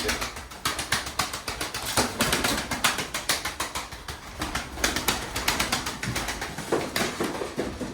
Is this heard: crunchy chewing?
no